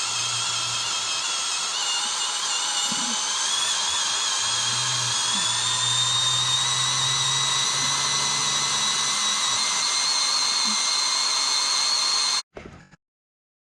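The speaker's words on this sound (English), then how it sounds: "So now I'm just gonna keep going, drill this thing out, and we'll have our stud out in no time." A power drill drills out a stripped lug nut stud with a steady, high, thin whine that holds for about twelve seconds, pitch creeping slightly upward, then stops abruptly.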